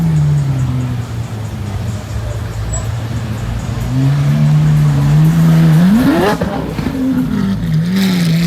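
A Lamborghini Huracan Evo engine revs loudly and close by on a sunny Florida street, its pitch rising and dipping with a sharp climb near the end, over steady road and traffic noise.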